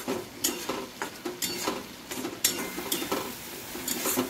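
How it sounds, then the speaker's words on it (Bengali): Tomatoes are stir-fried in a pan for a steamed egg curry, with repeated utensil scrapes and stirring strokes at an uneven rhythm over a faint sizzle, close and without talk. "টমেটোটা দেওয়ার পরেও আমি টমেটোটাকেও 2 থেকে 3 মিনিট এরকম ভালো করে একটু কষিয়ে নেব"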